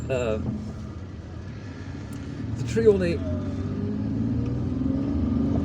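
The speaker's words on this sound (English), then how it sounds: "And now we are driving on this street, in this part of Bab El Oued known as Bazeta." A car driving through the streets of Bazeta in Bab El Oued, Algiers, with a steady low engine rumble and road noise throughout, briefly swelling midway, while someone speaks over it.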